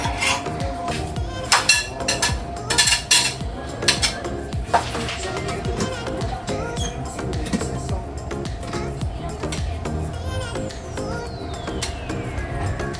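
Plates and cutlery clink and scrape in a steady clatter, with a few sharper knocks early on and a quiet murmur in the background.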